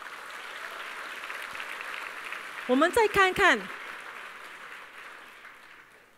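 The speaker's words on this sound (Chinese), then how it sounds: "是否给他们一个掌声啊？" Audience applause at a direct-selling business leadership meeting: a steady, moderate wash of clapping runs throughout, with a short burst of a speaker's voice over it in the middle.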